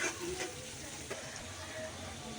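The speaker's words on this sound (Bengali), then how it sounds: "এবার দিয়ে দিব আমি চিংড়ি মাছগুলো এবার সব কিছু একসাথে ভালো করে ভেজে নিচ্ছি" Prawns frying together with onions in a pan, a steady close sizzle running throughout with occasional faint stirring scrapes.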